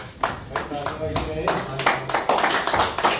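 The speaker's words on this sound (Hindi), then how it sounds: "तालियों से इस्तकबाल किया जाए" Applause from a gathering welcoming a new member into a party, dense clapping bursts continuing throughout, with speech mixed underneath.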